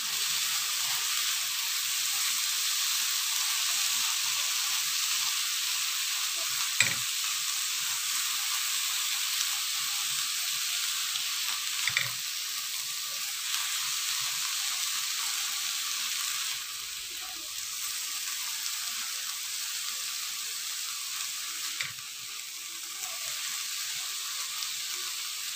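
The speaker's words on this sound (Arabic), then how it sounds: "هبدا انزل بالبصل، بسم الله، وهنزل بالكبده والقنصه" Onion, chicken liver and gizzard fry in melted butter with a steady, close sizzle and hiss throughout, broken by a few soft clinks and stirs, with no talk.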